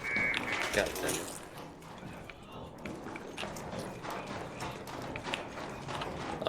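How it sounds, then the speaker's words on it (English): Footsteps in a multiplayer shooter game, a steady run of soft clicking, clattering steps close by, mixed with mechanical game noise and faint gunfire over the full stretch. "I hear a lot of footsteps nearby."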